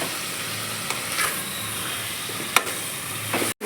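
Ingredients for a cowpea biryani fry in a pan with a constant loud sizzle, joined by occasional scraping stir strokes close by.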